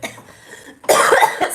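A person coughs during a live comedy show, a loud, harsh burst after a quiet stretch of faint background sound.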